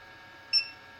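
A 3D printer gives two short electronic beeps during a filament change, one midway and one at the end, over a steady mechanical hum with a faint high whine.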